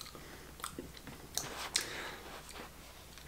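Dry Magic Spoon keto frosted cereal is chewed close up, giving soft irregular crunches that pop up every half second or so against a quiet background.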